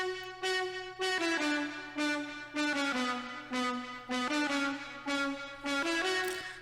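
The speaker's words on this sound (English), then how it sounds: "It's kind of like a horn, like a trumpet sounding stab." A horn-like, trumpet-sounding synth stab for a festival trap build-up plays a series of short bright chords in a steady rhythm, with a low sustained tone beneath and no voices.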